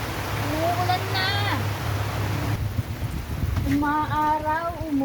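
Rain patters in a steady wash of noise while people talk over it nearby.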